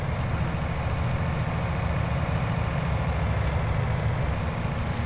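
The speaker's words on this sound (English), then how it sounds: "I can jump into the John Deere. Into the combine." A John Deere combine harvester in Farming Simulator 19 runs with a steady, heavy engine drone, a constant low rumble that stays loud and unbroken from start to finish, with no voices.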